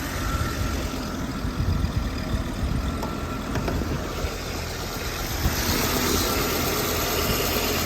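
A 1983 VW Quantum wagon's 2.1 liter five-cylinder engine idles with a steady, close rumble and a slight even vibration, no voices.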